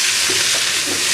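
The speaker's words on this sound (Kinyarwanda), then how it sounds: "Aha rero niho dushyiramo bya birungo birimo igitunguru na karoti," Chopped onion and carrots sizzle in hot oil for a potato and meat stew, a loud, close, continuous frying hiss with faint stirring underneath.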